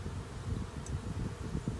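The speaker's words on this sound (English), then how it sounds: "There's a lot of bees in this box." A honey bee swarm buzzes inside a hive box holding foundation frames, a steady low droning hum that stays close and continuous with no talking.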